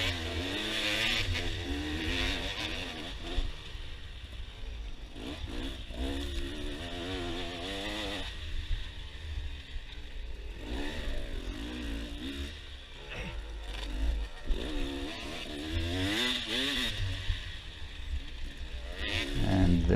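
Enduro motorcycle ridden through a cross-country test section at the Bronks, engine revving up and down continuously as it accelerates and backs off over rough ground, close and loud throughout.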